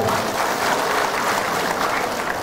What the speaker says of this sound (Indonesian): kenapa lo orang ini ragu-ragu tepuk tangan begitu?